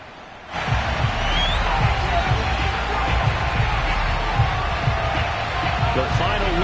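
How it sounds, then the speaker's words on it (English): Stadium crowd noise from an EA Sports football video game, Giants at Washington, rising suddenly into a steady, dense roar of a large crowd that holds at an even level throughout. "this crowd is ready to go"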